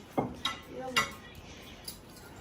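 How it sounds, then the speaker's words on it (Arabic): Forks and spoons are set down on plates at a family table, making three or four light, separate metallic clinks close by over a quiet room, with a faint voice in the background. "يلا حط شوكة واحدة ومعلقة واحدة على كل صحن"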